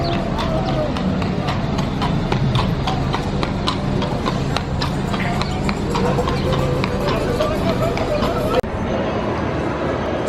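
Horse hooves clip-clopping at a steady walking rhythm outdoors in Texas, near and fairly loud over a constant bed of background crowd babble and ambient noise.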